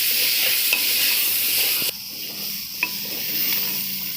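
Chickpeas stirred with chili powder, garam masala and Kashmiri chili in a hot pan for iftar khichuri, a steady close sizzle with scraping spoon strokes and a couple of sharp clinks, no talk.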